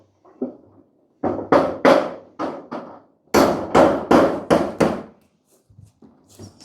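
Hammer blows drive nails while a house roof is being put on, landing in close, sharp groups of two to five strikes. Short pauses separate the groups, and the knocks are loud and nearby.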